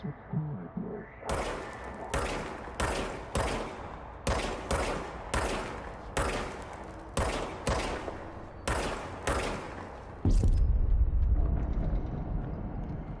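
Gunfire in the video game Control: a long series of sharp, loud shots in an irregular rhythm, about a dozen bursts, followed by a rumbling low-frequency blast near the end.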